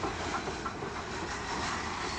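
A stopping train running along a 1960s branch line between Cheltenham and Kingham, a steady broadband rumble and rattle of wagons on track that stays loud and continuous throughout, with no voices.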